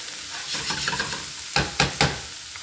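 Baby shrimp and onion sizzle in olive oil in a pan, a soft frying hiss broken by several sharp spatula scrapes and clacks toward the end, close by.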